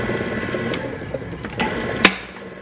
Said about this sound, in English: And obviously you guys know I use my Nama juicer.